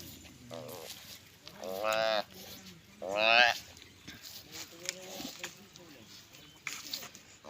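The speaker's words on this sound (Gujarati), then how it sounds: "ગીર ગાય છે, ગીર ગાયની વાછેડી છે," A Gir cow and her prematurely born calf let out two drawn-out moos in quick succession, fairly close, while a person talks around them.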